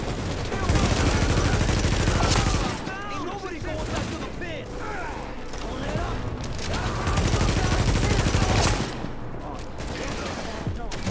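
Rapid bursts of automatic gunfire from The Division, a third-person shooter, as players pour rounds into a heavily armored enemy, with sustained volleys mixed with game effects and spoken commentary over it.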